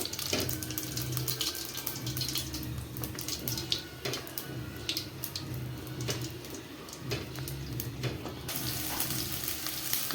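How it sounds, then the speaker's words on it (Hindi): Garlic, onion and green chillies fry in hot oil over cumin, making a soft, continuous sizzle at low volume, with faint splashy kitchen clatter and no talking. "यहाँ पे मैंने डाल दिया लहसुन प्याज और हरी मिर्च, इसमें इसको फ्राई करेंगे अच्छे से"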